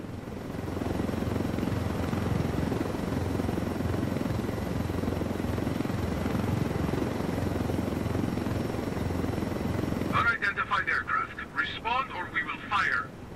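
A helicopter's rotor and engine drone loud and steady in Ghost Recon Wildlands, then cut off sharply near the end, followed by someone talking.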